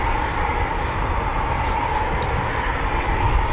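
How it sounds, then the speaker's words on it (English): Eurofighter Typhoon FGR4 jets flying at RAF Coningsby, a steady, dense roar of jet engines rushing continuously at moderate loudness without a break. "Here come the Typhoons"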